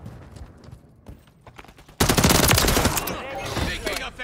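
Gunfire in the Modern Warfare III video game: quieter shots and talk at first, then a loud, sustained burst of rapid automatic fire close by that gradually tapers off.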